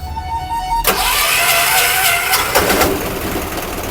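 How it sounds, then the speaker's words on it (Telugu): An auto rickshaw engine, just serviced with a bore job, cranks and fires into a loud, steady close-up running note that carries on alone after the start. "బండి స్టార్ట్ అయింది"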